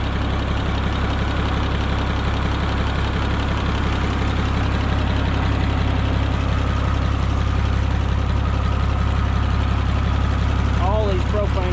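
An International 660 LP propane tractor engine idles steadily with a slight miss, a loud low continuous rumble throughout, with brief faint squeaks near the end.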